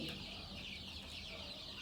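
A flock of chickens, around 250 days old, clucks steadily and close by in a continuous, busy chorus with no talking.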